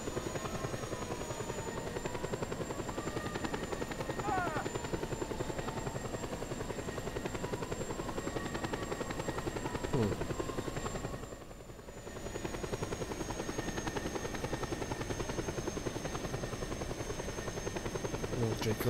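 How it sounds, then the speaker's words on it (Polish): A helicopter in the video game Just Cause 2 drones steadily with a buzzing rotor hum throughout, briefly dipping as it passes, while someone speaks now and then over it. "No, czyli kolejny śmigłowiec."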